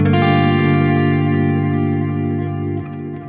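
A sustained synth chord drenched in a wet delay plugin with high feedback, repeats smearing into a dense, ringing wash that holds steady before thinning slightly at the end, loud and alone.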